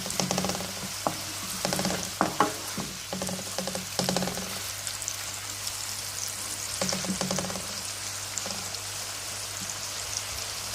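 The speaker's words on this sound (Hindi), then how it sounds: "अब जो हम प्याज ऐड कर चुके हैं, अब इसको जो है हम 3 से 4 मिनट के लिए भून दें।" Ground onions fry in a pan for a kofta curry, a steady close sizzle with irregular stirring clatters and scrapes through the first half, quieter continuous crackle after, with no voices.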